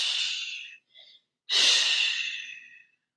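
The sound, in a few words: exhaling during a yoga twist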